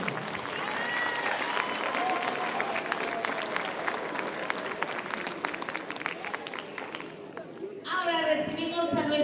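An audience applauds a candidate at a town queen pageant in San Mateo, Valparaíso, with sustained clapping and crowd noise for most of the stretch, before a presenter's voice takes over near the end.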